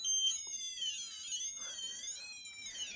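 A small electronic buzzer from an inventor kit emits a shrill, warbling high-pitched tone that wavers continuously, quiet and close.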